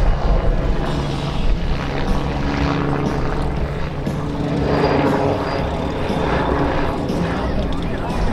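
A helicopter climbs during an air show display at Cholet, its engine and rotor throbbing in a loud, continuous drone, while a commentator talks over it through much of the stretch.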